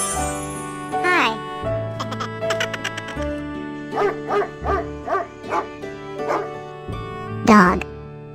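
A dog barks in a quick run of short, repeated yaps mid-clip, set against steady background music, with a voice speaking before and after.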